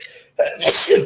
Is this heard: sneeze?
yes